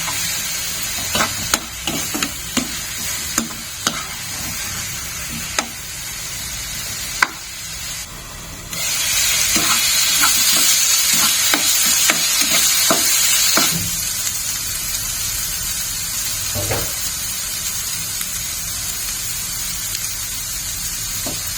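Loud sizzling from a hot pan, potatoes and spices frying and crackling steadily with intermittent stirring scrapes and a surge of hissing midway.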